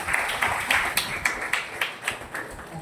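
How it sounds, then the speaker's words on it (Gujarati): Applause from an audience, heard as a sparse run of distinct, evenly spaced claps, moderately quiet and without talk over it. "જોરદાર તાળીઓ"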